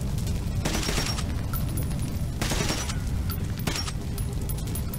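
Bursts of rifle fire in Metro 2033 Redux crack out in short volleys over a steady rumbling background, with a few separate clusters of shots.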